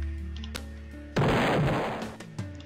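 A loud, sudden blast erupts as a wall is destroyed in the Roblox game Lumber Tycoon 2, a sharp burst with a roaring decay amid a few small pops and clicks.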